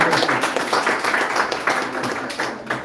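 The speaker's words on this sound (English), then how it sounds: "give yourself a big round of applause" A course audience gives itself a round of applause at a presentation training session, scattered clapping running steadily through the whole stretch at moderate loudness.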